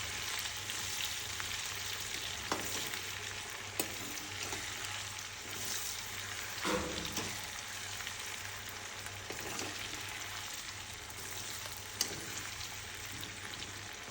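Garlic and ginger frying in a karai, a quiet, steady sizzling hiss with a few faint stirring knocks, fairly distant and low in level.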